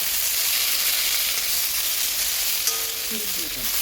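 Food frying in coconut oil for a Sunday lunch, a steady broadband sizzle being stirred throughout, close and continuous with a few faint scraping tones near the end.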